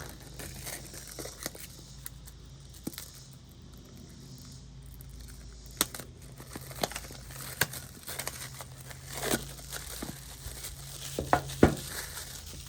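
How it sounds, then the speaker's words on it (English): A knife cuts the plastic film on an Insta360 X4 camera box and the film is peeled away. Soft crinkling and scraping are heard up close, with scattered small ticks and a sharper rustle near the end. Nobody speaks. "We're just going to cut this film back here. And remove."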